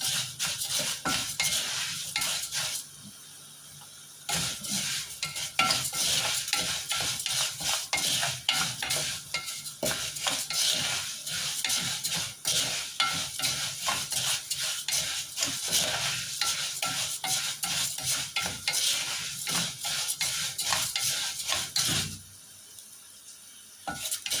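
Fine vermicelli noodles fry in a pot while a utensil stirs them steadily, giving a close, continuous sizzle broken by scraping clatter, with two brief pauses in the stirring.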